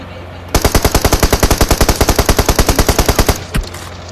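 Rapid automatic gunfire in PUBG aimed at a motorcycle, a loud, close, evenly spaced burst of about thirty shots lasting nearly three seconds, followed by a single dull thump.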